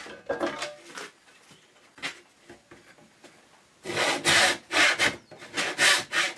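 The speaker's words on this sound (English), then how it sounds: "This tenon saw is a little bit too big for this job." A tenon saw cutting a wooden box lid, giving a few rasping strokes early on, then a run of loud, close, rhythmic back-and-forth sawing strokes.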